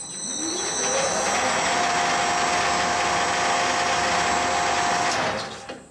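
A D bit grinder motor starts up with a rising whine, reaches speed within about a second and runs loud and steady with a high tonal hum for several seconds before cutting off.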